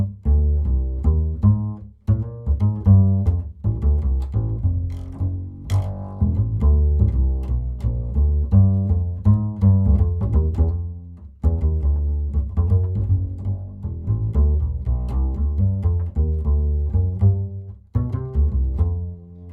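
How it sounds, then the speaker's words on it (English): An upright bass played solo and captured in mono with an Octava 319 large diaphragm microphone, close and full, with deep plucked notes in a walking, rhythmic line and brief pauses between phrases. "Now the third microphone now will be the Octava 319 large diaphragm microphone."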